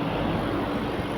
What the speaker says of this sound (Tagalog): lalong lumalakas ang makina ng ating day bike